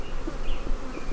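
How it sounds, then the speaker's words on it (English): Honeybees swarm around a beekeeper at an opened hive, a close, agitated buzzing of many bees with a few individual bees zipping past near the ear. "And these bees are not happy with me. They're all over me."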